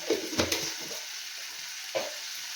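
Catla fish frying with spices in a pan, giving a steady soft sizzle with a few sharper stirring scrapes and brief bursts.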